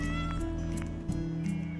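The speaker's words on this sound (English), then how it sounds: "Oh, so many cats." Several cats meow in the video game I Am Dead, short mews coming over a steady humming musical background, fairly quiet.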